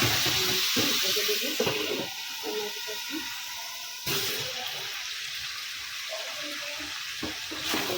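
Drumstick pieces and potatoes being sautéed in a pan for curry, giving a steady close sizzle with bursts of stirring and scraping, one sharp clatter near the middle, and no one speaking.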